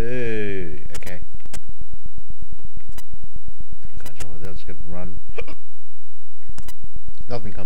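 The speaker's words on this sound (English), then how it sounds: "Bet you Bruce Lee never got the hiccups." Loud, close hiccups jerk out repeatedly over a steady electronic buzz of music and effects from the Commodore 64 Bruce Lee game, with a voice talking in between.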